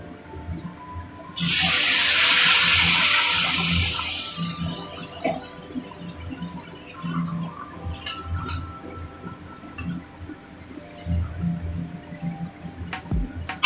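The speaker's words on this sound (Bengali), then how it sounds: "এখানে গরম জল অ্যাড করব আমি" Hot water rushes into a pan of chickpea dal cooked with fish head in a loud pour lasting about two seconds, followed by softer clinks and stirring sounds.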